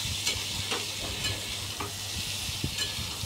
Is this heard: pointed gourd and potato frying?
yes